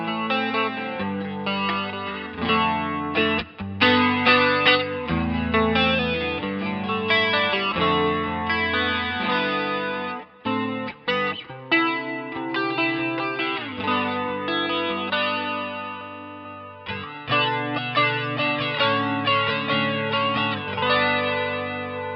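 Electric guitar through a Boss CE-2 chorus pedal set to a slow rate and high depth for a flanger-like sweep, playing continuous chords and melodic lines with a swirling, effected shimmer, loud and alone for the whole passage.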